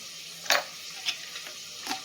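A few separate scraping clinks of a spoon stirring a mixture in a bowl, spaced irregularly and fairly quiet, with no talking.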